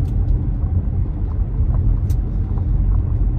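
An Audi car drives past with a steady, loud low rumble of engine and road noise that holds throughout.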